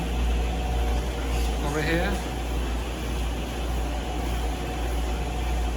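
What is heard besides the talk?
clothes dryer running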